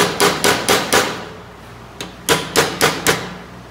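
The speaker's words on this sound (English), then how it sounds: "You're gonna take a flat-headed punch and a hammer," Hammer blows strike a flat-headed punch on a trike swingarm to cut a peened chain: four sharp metallic taps in quick rhythm, a pause, then five more, loud and close with no talk.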